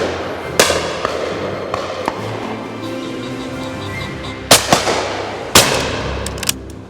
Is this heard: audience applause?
no